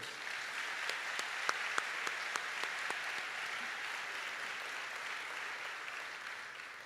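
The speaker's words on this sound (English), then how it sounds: "Please help me in giving them one more time a warm round of applause." Warm round of applause from the audience at a university science graduation ceremony, steady crowd clapping with a few sharper nearby claps, holding even before tapering slightly at the end.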